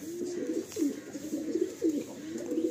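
Pigeons coo in soft, repeated rolling calls, several overlapping phrases close by against a faint background hum.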